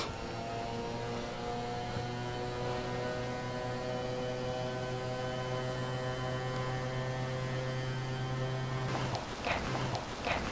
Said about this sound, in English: I'm going to lower your bed